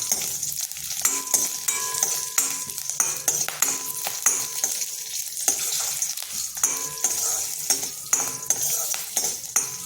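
A little masala and green chillies fry in hot oil for a greens and tomato curry, with a steady sizzle and repeated metal spoon scrapes and clinks against the pan.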